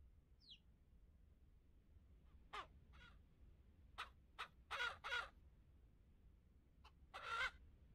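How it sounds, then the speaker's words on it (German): Chickens in the farming game Ranch Simulator give scattered clucks and squawky calls, several short bursts spread over a quiet background, moderately close. "Das ist ein fettes Huhn hier."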